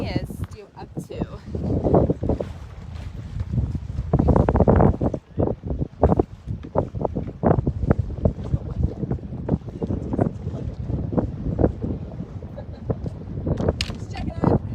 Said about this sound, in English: Just checking out how much wind there is.